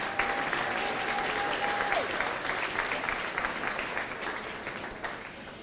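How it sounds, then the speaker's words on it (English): A school audience applauds steadily throughout, dense clapping at a fairly even level, with a brief whistle-like tone early on. "let's give them a round of applause"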